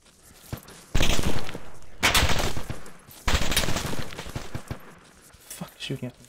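Gunfire in the military shooter ArmA 2, several loud bursts of shots and volleys, some seeming distant, with voices talking in between.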